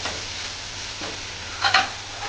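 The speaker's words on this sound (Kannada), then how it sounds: "ಸ್ವಲ್ಪ ಫ್ರೈ ಮಾಡ್ಕೊಳ್ಳಿ" Fenugreek leaves frying in a pan for a home-style methi saaru, a steady soft sizzle with a brief louder crackle of stirring near the end, no talk.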